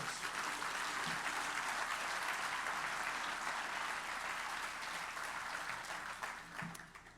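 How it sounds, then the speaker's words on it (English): At a county State of the County address, a large audience gives sustained, even applause for deployed service members, a broad wash of clapping that tapers slightly toward the end. "Let's give them a round of applause."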